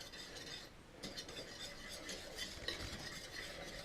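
A spoon stirs a pot in a home kitchen on brew day, a steady, soft scraping and clinking that runs unbroken at close range with no voices.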